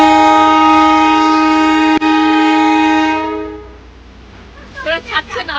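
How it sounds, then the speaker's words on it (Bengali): A train near Siliguri sounds a loud, sustained horn for about three and a half seconds before it cuts off, followed by people talking nearby. "এটা হচ্ছে অরিজিনাল ট্রেন আর এটা হচ্ছে টয় ট্রেন"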